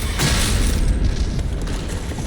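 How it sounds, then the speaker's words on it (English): A Stone Imp bursting apart from a shield charge in the video game Doom: The Dark Ages, a loud, deep boom that hits early and rumbles on through the short stretch, with no talk. "It's vulnerable to shield charge, which will cause it to explode."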